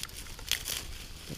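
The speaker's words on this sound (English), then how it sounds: "I'll try to cut these down." Dry grasses being cut with a bushcraft knife outdoors, a brief crisp crinkling rustle with a couple of soft snaps, close and fairly quiet.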